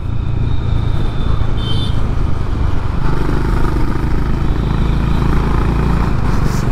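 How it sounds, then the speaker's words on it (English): A Honda CB 350 H'ness motorcycle engine drones steadily at close range while riding, its pitch shifting slightly as it speeds up, with no talking. "The sound is addictive. Motorcycle's easy to throw around."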